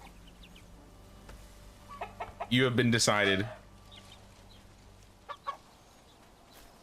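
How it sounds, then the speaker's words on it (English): Chickens in the survival game Bellwright clucking at a settlement, a loud burst of fowl calls in the middle followed by a couple of brief clucks, heard faintly among game sounds with a voice speaking briefly. "Damn, they're killing all my chickens."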